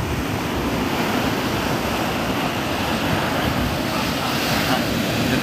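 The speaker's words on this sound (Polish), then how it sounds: "O, idzie fala, już się tutaj wszyscy nagrzewają, fala idzie, poczekajcie." Ocean waves break at a surf spot in the USA where surfers wait, giving a steady, loud roar of surf with wind buffeting the microphone throughout.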